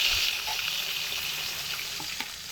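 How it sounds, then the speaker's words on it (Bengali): Fresh pond fish fries in hot oil in a pan, giving a steady, close sizzling hiss with faint pops and crackles throughout. "বাকি মাছ দুটোকে ওই একইভাবেই ভেজে নেব।"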